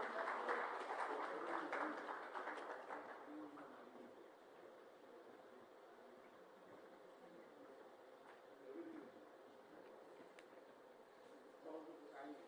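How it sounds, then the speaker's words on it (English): Audience applause at a corporate keynote event for Tata Housing, a dense wash of clapping loudest at the start and tapering over the first few seconds into a quieter murmur of room noise. "With a warm round of applause one more time"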